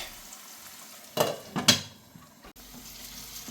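Onion, tomato, ginger and garlic paste sautéing in a pan for chicken kadai, a low steady sizzle with two loud stirring scrapes near the middle and one sharp knock after them, close, with no talk.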